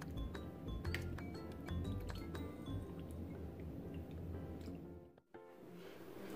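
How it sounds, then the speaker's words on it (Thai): Aloe vera leaves are rinsed in warm salt water, giving a continuous close wet sloshing and dripping with small clinks, then a brief pause before the water movement resumes. "นี่นี่เจก็ใส่ลงไปในน้ำเกลือนะคะแล้วก็น้ำอุ่น เดี๋ยวล้างแป๊บนึงก่อน"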